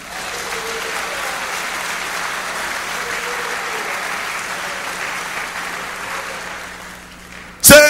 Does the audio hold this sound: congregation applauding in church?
yes